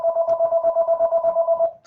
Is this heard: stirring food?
no